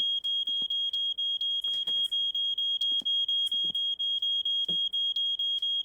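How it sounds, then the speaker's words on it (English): A smoke detector inside a house in the game My Winter Car chirps in a steady train of short, even high beeps, with faint bumps and footstep-like knocks between them. "It's my smoke detector."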